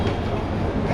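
A Delhi metro train rumbles along with a steady, loud, dense low roar, heard from inside the carriage without pause.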